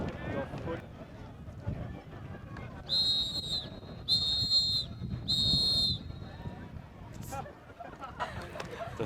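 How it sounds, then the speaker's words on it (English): Three sharp referee whistle blasts at an ultimate frisbee match between Australia and Great Britain, each about a second long and evenly spaced, rising clearly over crowd noise and chatter. "The three whistles indicating that time has expired"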